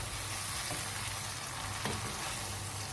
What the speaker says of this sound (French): On va laisser mijoter comme ça 5-10 minutes à feu doux